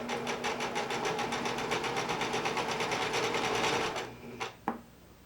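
A sewing machine stitches knit fabric sleeves in a rapid, even run of needle strokes for about four seconds, then slows and stops with a couple of clunks; close and clear, no talking.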